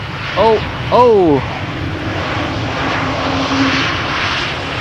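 An Emirates Airbus A380 (A388), nine years old, arrives at Amsterdam Schiphol Airport on a flight from Dubai with a loud, sustained jet roar outdoors, broken early by two short, falling whines.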